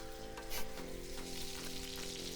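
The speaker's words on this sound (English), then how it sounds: "Heat up some oil in the pan, get it nice and hot. Ooh, you hear that sizzle?" A cheese-stuffed burger patty fries in hot oil in a pan, giving a steady, crackling sizzle close by, continuous and fairly quiet with no voices.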